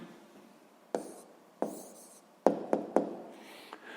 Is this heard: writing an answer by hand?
yes